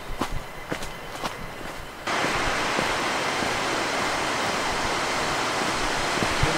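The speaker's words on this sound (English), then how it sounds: "So I can hear the sound of the waterfall." A waterfall on a trek gives off a broad, steady rushing roar that swells in abruptly and stays constant. It follows a few seconds of footsteps over quieter ambience.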